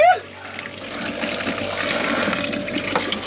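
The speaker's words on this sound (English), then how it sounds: "That pump's working great." Water runs steadily from a freshly installed pump in a rebuilt 1980s van, with a soft continuous splash and hiss, close by, under light talk, after a brief sharp squeak at the start.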